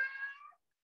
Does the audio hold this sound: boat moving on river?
no